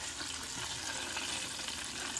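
Jamaican-style homemade fried chicken frying in a pan, giving a soft, steady hiss and crackle of hot oil, quiet and even throughout with no voices.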